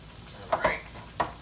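Sliced squash and green tomatoes frying in hot oil, a close sizzle broken by a few sharp pops and spatters as pieces go into the pan.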